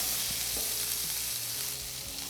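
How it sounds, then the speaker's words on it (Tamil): Dense, steady sizzling and crackling of mustard seeds popping in hot oil, close and continuous, with a few soft knocks of stirring, while cooking potato fry. "கடுகு வந்து நல்லா பொரிஞ்சு வரட்டுமா"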